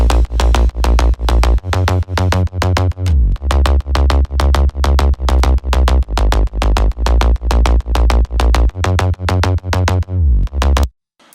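A thick layered synth bass made in FL Studio pumps in a steady rhythmic pattern, loud and punchy with regular pulses, ending abruptly in silence.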